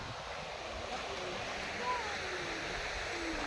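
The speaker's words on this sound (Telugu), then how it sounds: "అటు చూడండి నీళ్ళు పోతున్నాయి" Water pours steadily over a dam near Dindi village on the Srisailam route, a continuous broadband rushing roar with no breaks, fairly distant and even in level, while faint speech and a brief whistle-like tone drift over it.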